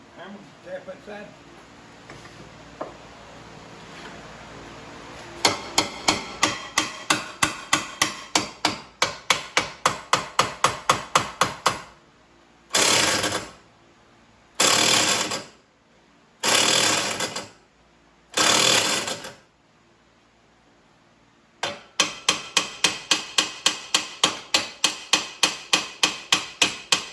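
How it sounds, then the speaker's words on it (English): Hammer striking a part in a car shop during a factory-stock vehicle build, heard as long runs of rapid sharp taps with a few longer bursts of heavier noise between them, loud and close. "Hammer, tap that side."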